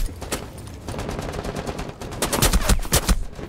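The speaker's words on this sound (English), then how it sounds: "Oh, that kid's shooting." Automatic gunfire in Rainbow Six Siege, a long run of rapid shots that grows louder and heavier toward the end, close and sharp, with no talking.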